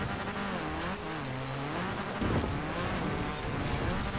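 Supercharged Corvette Z6 engine revving in the Forza Horizon 4 racing game, a steady loud roar with rising and falling pitch as the revs sweep up and down, heard alone without talk.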